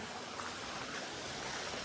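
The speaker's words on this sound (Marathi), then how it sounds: "हा इकडं छोटा पाणी आहे." A small stream of water in the Konkan countryside flows with a steady, even rushing wash, soft and continuous throughout the short moment.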